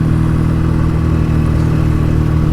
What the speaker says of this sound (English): If I just blip the throttle, it's quite responsive, that.